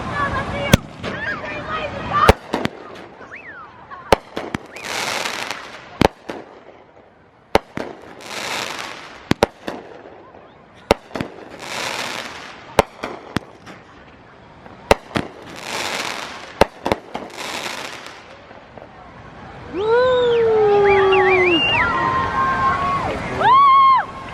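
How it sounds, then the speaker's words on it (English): Fireworks are set off at Myrtle Beach: repeated sharp bangs and crackling bursts, spaced a few seconds apart at moderate distance, while people talk and laugh in between. "Here goes our first firework."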